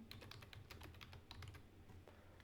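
Quick, steady typing on a computer keyboard during a coding session, a fast run of light clicks at close range with no talking.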